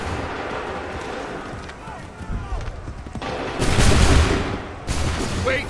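Assassin's Creed III musket volley firing comes as two loud, rough crackling blasts of massed shots near the end, over background battle noise and voices.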